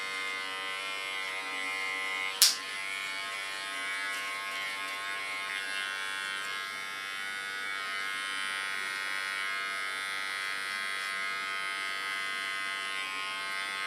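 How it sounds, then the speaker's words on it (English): An electric hair clipper buzzes steadily and close while cutting short hair on a woman's head, with one sharp click partway through and no talking. "Use my clipper as a comb."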